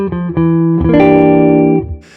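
A processed electric guitar plays a short run of sustained notes from the E Locrian scale with reverb and slight distortion, each note ringing into the next, ending with a brief noisy scrape.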